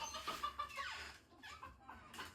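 Chicken clucking close by in a garage or yard setting, a run of short repeated clucks followed by a few softer calls, with no talk over it.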